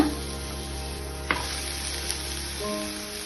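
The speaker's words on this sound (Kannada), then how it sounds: "ಈರುಳ್ಳಿ ಮತ್ತೆ ಬೆಳ್ಳುಳ್ಳಿ ಎಲ್ಲ ಇವಾಗ ಬೇಯಿಸ್ಕೊಂಡಿರೋಂತ ಸೊಪ್ಪನ್ನ ಹಾಕೋಣ" Boiled drumstick leaves hit a hot pan of frying onion and garlic, giving a continuous close sizzle with a few soft stirring scrapes over a steady low hum, and no voices.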